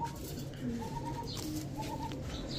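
Lahori pigeons coo in a loft at a pigeon seller's, soft repeated throaty calls rising and falling over a steady low background murmur, with other birds faintly calling.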